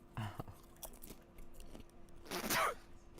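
A man's odd, sudden sneeze bursts out loudly near the mic, with a smaller mouth noise earlier that sounds like chewing on a wrapper, during a quiet wait in an online game queue.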